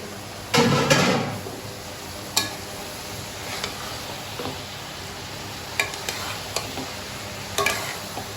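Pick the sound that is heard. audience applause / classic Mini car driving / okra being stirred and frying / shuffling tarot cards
okra being stirred and frying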